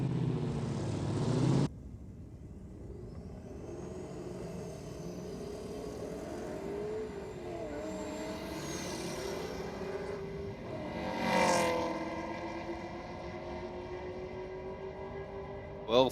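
Holden VN Commodore drag cars, one a turbo VN, launch at Sydney Dragway: a brief loud burst at the start, then a distant engine drone that rises and fades down the strip, with a second swell later.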